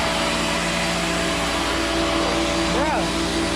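A vacuum cleaner runs in a workshop alongside an air compressor, saw and router, making a steady, loud, continuous whine and rush with a faint tonal hum underneath.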